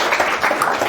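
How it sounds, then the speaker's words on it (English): Scattered audience applause at an academic symposium, brief and moderately loud clapping from a room full of people. "If we could just give him a round of applause."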